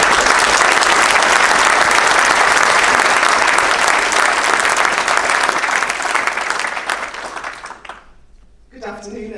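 A room full of people applauds political candidates with sustained, dense clapping for about eight seconds that fades out, after which a single voice begins speaking.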